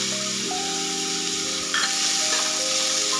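Chopped tomato sizzles with onions in a hot pan, a steady bright frying hiss with stirring scrapes, loud and close, with no talking.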